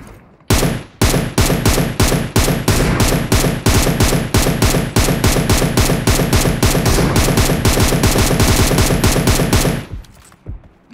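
Rapid automatic gunfire from a PUBG Mobile match rattles in loud, dense bursts almost without pause for about nine seconds, then cuts off abruptly.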